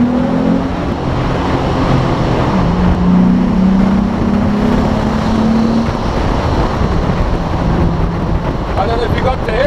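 Morgan Roadster fitted with a Mustang engine revving as it drives slowly through a tunnel, a loud droning engine note rising and falling, heard close with wind buffeting.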